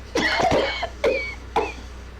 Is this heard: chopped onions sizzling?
no